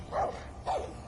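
A dog in the video game Far Cry 5 gives two short barks, close and fairly loud.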